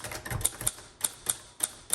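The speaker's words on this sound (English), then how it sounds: "let's go ahead and do some typing" Keys strike on a freshly cleaned 1958 Royal Quiet Deluxe manual typewriter in a quick, uneven run of about eight sharp, close clacks, each with a bright metallic snap.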